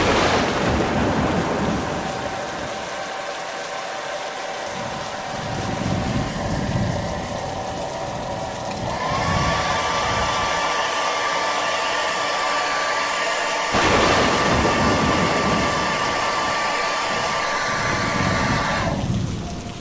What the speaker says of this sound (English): time to test my lean-to to see if it will withstand my gale force winds and my rain.